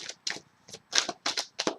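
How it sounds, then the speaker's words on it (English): Tarot cards are shuffled by hand in close, crisp, papery bursts of about six quick slaps and riffles separated by short pauses, heard without any talk. "one more shuffle"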